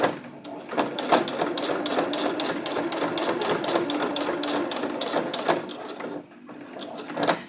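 A sewing machine labors through a bulky fabric corner, its needle hammering in a fast steady run for several seconds with brief pauses near the end, close and loud.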